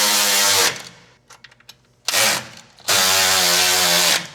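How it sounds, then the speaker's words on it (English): A power ratchet tightening bolts during assembly of a Honda Goldwing trike with a sidecar, giving a long whirring burst, a few short clicks and blips, then two more loud sustained runs, close up with no talking. "I'm kind of holding the ratchet and tightening the wrench."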